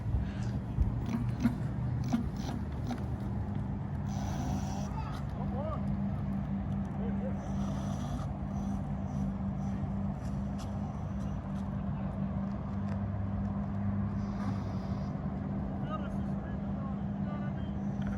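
A Minimotors Dualtron X2 electric scooter on its first ride gives a steady, droning motor and road hum with wind noise throughout, under intermittent muffled talk.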